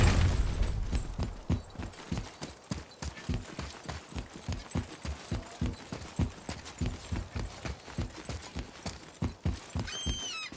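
Horse hooves clip-clop in a steady, rhythmic gait while riding in the God of War video game, loud and close, continuing alone without speech for about ten seconds.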